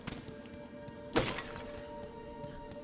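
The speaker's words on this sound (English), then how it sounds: "I like that ceramic smashing sound." A sharp ceramic smash from Hollow Knight: Silksong bursts out once near the middle, a bright shattering crack over quiet game ambience with a few softer taps around it.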